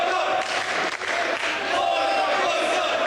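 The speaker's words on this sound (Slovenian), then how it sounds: "Razgreti navijači so navijali za svoje favorite, se z njimi veselili" School football fans in the stands cheering at a match, a dense continuous crowd roar with clapping, distant voices blended throughout the short stretch.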